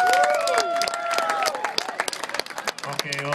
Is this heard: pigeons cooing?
no